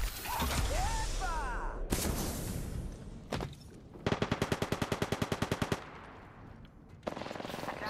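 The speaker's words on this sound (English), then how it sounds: "They're shooting at me." Automatic gunfire in Apex Legends crackles in a fast, even burst of about a dozen shots, with single shots and impacts before it and another short burst near the end. The shots are fairly close, with faint speech in the background.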